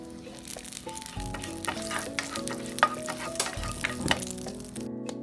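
Whole cardamom, cloves, cumin seeds and a cinnamon stick fry in oil over low heat, giving a steady sizzle with scattered crackles and pops and a few scraping stirs, with no talking.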